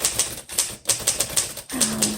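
A 1942 Royal Quiet DeLuxe manual typewriter being typed on: a brisk run of close, crisp key strikes in uneven rhythm, ending in a short ringing tone, with no talking.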